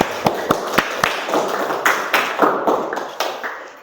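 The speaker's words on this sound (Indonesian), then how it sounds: "Tepuk tangan untuk Aziz." A primary school class claps for a pupil after his group's presentation, sharp separate claps at first that build into a loose, close burst of clapping with irregular slaps.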